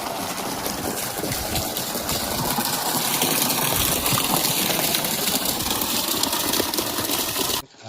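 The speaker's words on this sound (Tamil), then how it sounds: "மோட்டார் பார்த்தீங்கன்னா 5 HP ஹெவி டைப்பு 300 அடி பம்ப் பண்ணிகிட்டு இருக்கு மோட்ரு." A 5 HP heavy-type motor pump pushes water hard through a 2-inch pipe. The gush is loud and steady with the motor's drone underneath and no talk over it, then it cuts off abruptly at the very end.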